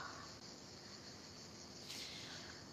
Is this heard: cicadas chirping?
yes